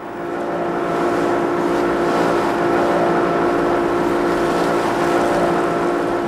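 Outboard motor on a pirogue canoe heading to the coral reef in Tahiti, French Polynesia: a steady, loud, close engine drone with water rush that holds level throughout.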